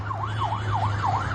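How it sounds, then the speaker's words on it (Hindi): A wailing siren rises and falls in quick, regular sweeps over a steady low engine hum, loud and close, amid fighting between Afghanistan and Pakistan. "सायरन की आवाज आपको सुनाई दे रही है"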